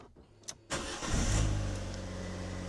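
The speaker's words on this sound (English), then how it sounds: "Right, time to start the car up" Car engine, just repaired after a gearbox input shaft fault, cranks briefly and fires into a strong, steady idle close up, with a small rev as it catches.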